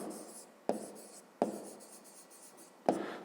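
Pen writing by hand on paper in a fifth-grade maths exercise, a soft steady scratching broken by three sharp taps of the pen, close and alone with no talk.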